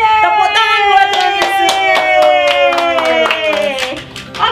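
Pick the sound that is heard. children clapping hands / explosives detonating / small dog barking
children clapping hands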